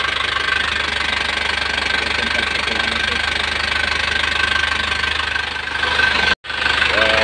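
A car engine idles steadily after its first start in four years, a close, even rumble with a rhythmic knock running throughout. It briefly cuts out near the end, then resumes.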